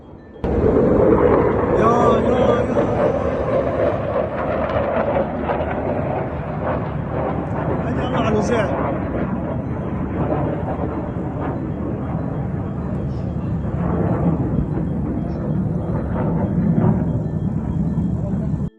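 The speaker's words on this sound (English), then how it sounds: "F-15s with the Israeli Air Force seen flying at low altitude and deploying flares over the Lebanese capital of Beirut" Israeli Air Force F-15 jets flying at low altitude over Beirut make a loud, sustained roar that swells at the start and rumbles on, with a voice talking over it.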